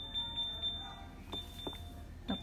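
A refrigerator's alarm beeps faintly and steadily, a thin electronic tone sitting under low kitchen background noise.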